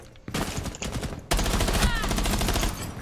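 Dense bursts of automatic gunfire in the tactical shooter Rainbow Six Siege, a loud rattling volley after a brief pause, then a sustained barrage of rapid shots that fills the rest of the moment.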